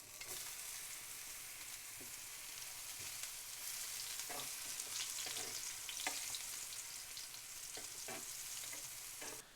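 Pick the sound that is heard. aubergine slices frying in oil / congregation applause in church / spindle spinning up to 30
aubergine slices frying in oil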